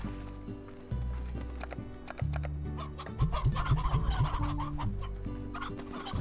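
Hens cluck in Slime Rancher, a few birds sounding repeated short clucks and squawks in a quick rhythm over a looping game music bed, with no talk.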